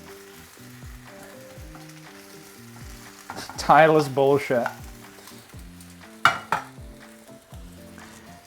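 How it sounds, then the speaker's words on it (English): Leeks frying in a pan give a loud sizzling, crackling burst in the middle and a sharper flare near the end, over steady tonal music with a brief spoken remark. "frying the leeks"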